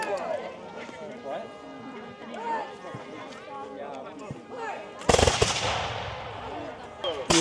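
Musket gunfire at a War of 1812 reenactment battle, a sudden loud volley crack followed by a decaying roll of shots, heard after a stretch of someone talking over faint distant battlefield noise.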